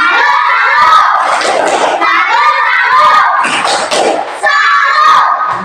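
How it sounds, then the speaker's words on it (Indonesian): A classroom of schoolchildren gives a salute clap for the first group, loud and close, their rhythmic clapping mixed with a continuous chorus of chanting and shouting children's voices. "Oke, tepuk salut untuk kelompok 1."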